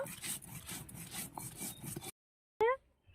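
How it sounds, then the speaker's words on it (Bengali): Cumin, coriander, radhuni, mustard seeds and dried chillies ground together on a stone slab, a close, rough rhythmic scraping and rubbing for about two seconds, then a pause and a brief sharp clink. "জিরে ধনে রাঁধুনি সর্ষে শুকনো লঙ্কা সব একসঙ্গে বেটে নেব খুব ভালো করে বেটে নেব"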